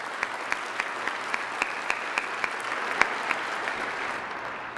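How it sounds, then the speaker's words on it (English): Steady, moderately distant applause from a crowd at a city's State of Our City 2019 event, a continuous wash of many hands with a few sharper claps standing out. "So if we could give them a round of applause again,"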